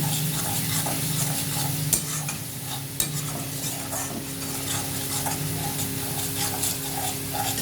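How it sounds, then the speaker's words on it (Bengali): Chicken masala with turmeric, cumin and Kashmiri chili powder fries in a pan with a dense, continuous sizzle and bubbling, stirred steadily, with two sharp knocks of a spoon against the pan. "দিলাম একটু কাশ্মীরি লঙ্কার গুঁড়ো তা আবার ভালো করে কষাবো সব একসাথে"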